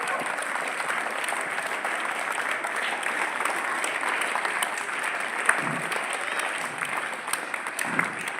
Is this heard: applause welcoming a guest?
yes